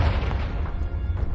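Confringo spell explosion in the Hogwarts Legacy video game, a short deep boom that is loud at the start and fades into a rumbling tail.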